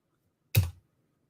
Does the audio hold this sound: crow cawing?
no